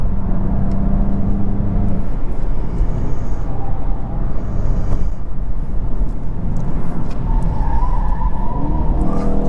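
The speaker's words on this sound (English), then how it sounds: "8th generation Volkswagen Golf GTI is quick" A Volkswagen Golf GTI Mk8 driven hard through corners on a bumpy road, giving a loud, continuous engine drone and road roar from inside the car that rises and falls slightly with the throttle.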